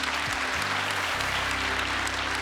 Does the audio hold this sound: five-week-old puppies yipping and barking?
no